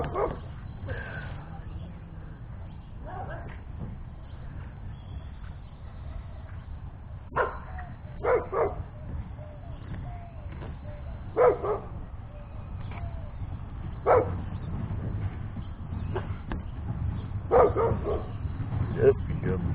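A dog lets out short yips, barks and whimpers in scattered bursts near a kayak repair session, while someone talks over much of it and steady low background noise continues.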